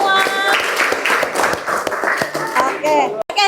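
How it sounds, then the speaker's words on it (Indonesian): Students in an Indonesian language class clap for themselves, a brisk round of applause filling the room for about three seconds with voices over it, ending abruptly. "Oke, tepuk tangan untuk kalian semua."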